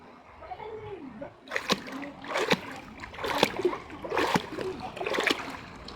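Someone wades through cold river water, making close, repeated splashes roughly every second, with a brief voice near the start.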